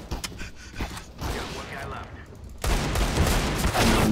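Rapid gunfire in the video game CS:GO, dense bursts of shots that swell from moderate to loud and keep going to the end, with a voice cutting in briefly over the shooting.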